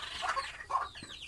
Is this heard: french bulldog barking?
no